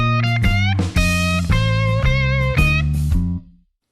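A distorted electric blues guitar plays a B.B. King–style shuffle lick in the second position, a run of sustained bent notes with vibrato for about three and a half seconds, loud and close, then cut off.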